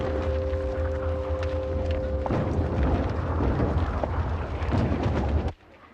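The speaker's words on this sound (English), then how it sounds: "Just fire the bloody flares." Flares are fired during a WW1 battle scene, heavy continuous rumbling blasts and crackling bursts layered over a low steady drone, loud and dense, then cutting off abruptly into near silence.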